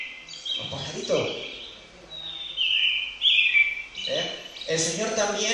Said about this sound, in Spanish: Los pajaritos.